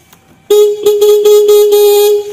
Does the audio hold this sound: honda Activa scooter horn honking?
yes